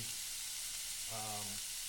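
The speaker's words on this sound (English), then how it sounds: "pan sizzling, which is great" Onions sizzle steadily in a hot frying pan, a close, continuous crackling hiss, with a brief low hum rising in the middle.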